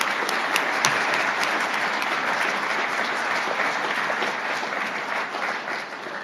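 An audience at a business school CFO roundtable forum applauds the panelists, a dense, steady burst of clapping filling the room and tapering slightly near the end.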